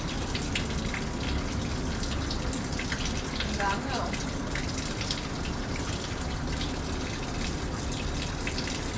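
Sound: water running while washing a funnel

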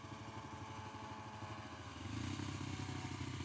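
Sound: Kawasaki KLX300 motorcycle engine running

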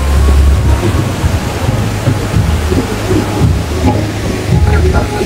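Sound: rushing water at Tokha Jhor waterfall

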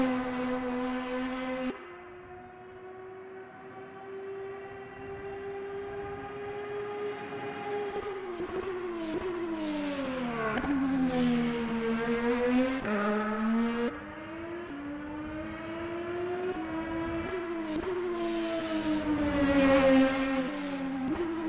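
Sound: Indycar race car going around a track

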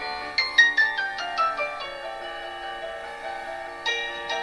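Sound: YouTube video playing through ASUS MeMO Pad tablet speaker

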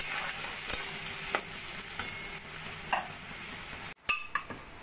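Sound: spices frying with salt and turmeric

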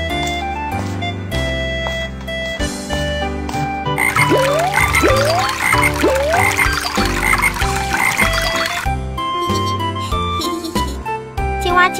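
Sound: frog croaking in a cartoon

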